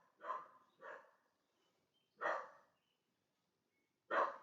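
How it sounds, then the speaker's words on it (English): A dog barks four times in a garden, likely at sheep, two quick barks, a pause, then two more spaced out, moderately distant and fairly loud against quiet surroundings. "Might be able to hear my dog out in the garden."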